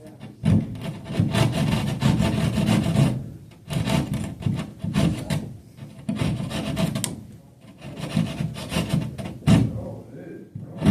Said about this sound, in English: Basically just sanding the area with this.